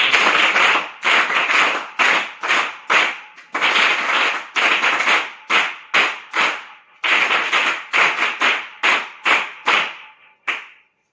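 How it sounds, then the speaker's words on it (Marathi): An audience claps to welcome guests at a gurukul gathering, loud bursts of applause broken into repeated short rounds with brief gaps, each round fading quickly, with no voices over it. "सर्वांनी टाळ्या वाजून स्वागत आहे"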